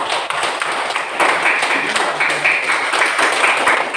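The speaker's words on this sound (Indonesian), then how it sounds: "Tepuk tangan dong." An audience claps at a children's Bible lesson, a dense, steady patter of many hands lasting throughout, fairly close, with faint voices mixed in.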